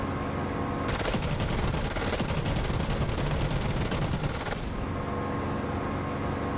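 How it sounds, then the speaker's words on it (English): Gunfire from BTR armored vehicles in the DCS flight simulator: dense, continuous rumbling bursts of automatic fire and explosions, loud and sustained, with a sharper, brighter stretch in the middle. "They're shooting at me."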